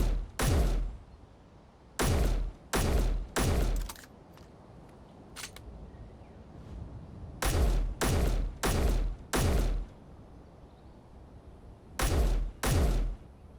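Weapon fire in the Space Engineers video game, loud sharp shots in spaced clusters of three or four, with quiet gaps between the groups.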